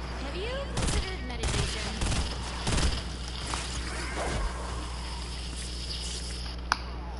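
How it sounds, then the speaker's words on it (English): A gun fires in Fortnite Save the World in rapid clustered bursts of sharp reports. Between volleys there are softer mechanical clicks and game sounds, with a voice talking over parts of it. "Man, that gun sounds good."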